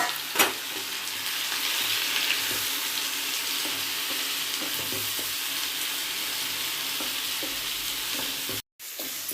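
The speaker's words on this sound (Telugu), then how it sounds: "ఇలా ఫ్రై చేసుకుందాం కొంతసేపు. ఆనియన్ పేస్ట్ కూడా వేసేసుకుందాం." Onion paste fries in oil for a prawn curry, an unbroken loud sizzle with faint stirring clicks, cut by a short silence near the end.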